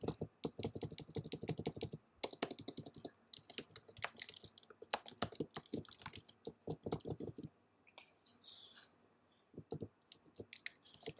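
Python code is typed on a computer keyboard in rapid, uneven bursts of close, crisp key clicks, with short pauses between runs and a brief gap near the end.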